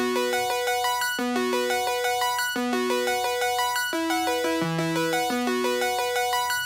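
Dry Havoc synth lead, a preset in Studio One Pro 7, playing a rhythmic sequence of short, bright stepping notes with buzzy harmonics at steady volume, alone with no talking.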